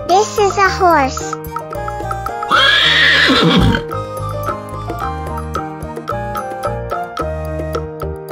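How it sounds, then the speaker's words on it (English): A domestic horse lets out a loud, shaky whinny that trails off over about a second, set against a cheerful backing tune with a short bright vocal flourish at the start. "This is a horse."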